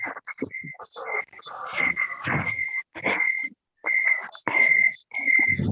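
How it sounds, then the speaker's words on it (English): Insects chirp outdoors at night in a dense, overlapping chorus of shrill trills and repeated pulsing calls that come and go, near and fairly loud, with no talking. "Sounds like a cricket gang war right now."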